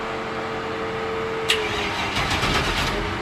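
Starter of a Tuff Truck whirs, catching with a sharp click, then churning, pulsing cranking as the motor fights to fire, close and fairly loud against steady background noise.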